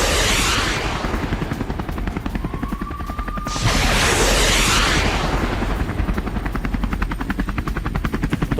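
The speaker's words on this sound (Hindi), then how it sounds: "वॉर फ्रंट लाइन पर यूक्रेनी हेलीकॉप्टर का अटैक देखिए" A Ukrainian military helicopter on a war front line thumps with loud, fast, steady rotor blade chop, and a sharp burst of noise cuts in midway.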